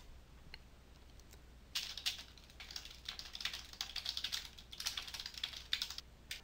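Keys clatter on a computer keyboard in a quiet room, a few isolated taps giving way to a steady, close run of typing with no one speaking.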